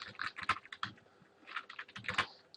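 Rapid, irregular clatter of keys on a computer keyboard, with bursts of quick keystrokes separated by short pauses, close and clear with no speech.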